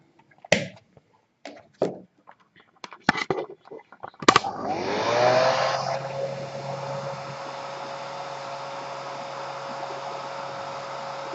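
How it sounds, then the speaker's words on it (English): A few sharp clicks and knocks, then a hair dryer switches on with a loud steady rushing whir that holds for several seconds, blowing warm air to heat a service robot. "I'm going to use a hairdryer to bump up the temperature and simulate it real"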